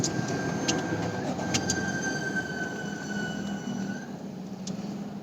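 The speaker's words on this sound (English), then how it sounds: "So I have started the engine and turned off the aircon. So this is all the noise you get." A Tata Altroz turbocharged three-cylinder engine idles with a steady, low hum and a faint high whine running across it, even and unchanging, air conditioning off, with no voices.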